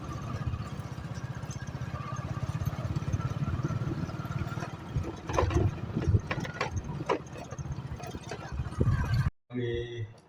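A tractor engine idles with a low, steady mechanical rumble and rattle, with people talking and clattering nearby, before cutting off abruptly near the end.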